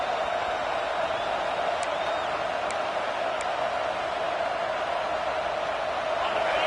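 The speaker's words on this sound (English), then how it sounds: "this crowd is fired up. Listen to this noise here." Steady roar of a large American football stadium crowd, a broad continuous wash of noise with a few faint whistles cutting through near the start.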